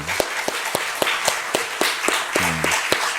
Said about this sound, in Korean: 아주 본인들 위해서 박수 치는데 엄청 열심히 치시네요